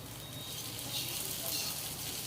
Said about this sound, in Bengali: এগুলো আমি তেলে ভেজে নেবো হালকা করে বাদামি কালার রং করে ভেজে নেবো